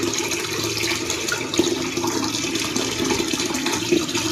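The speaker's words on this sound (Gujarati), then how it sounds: "કુંડામાં પાણી ભરવું પડશે" Water runs steadily from a tap indoors into a flower pot, a continuous splashing, gurgling pour heard close up and alone.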